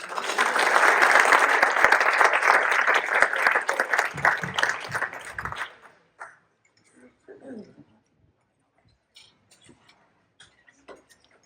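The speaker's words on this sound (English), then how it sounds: "Round of applause for our panelists, everybody" Audience applause for panelists at a digital marketing panel, loud sustained clapping for about five seconds that thins out and stops, leaving quiet room noise with faint scattered sounds.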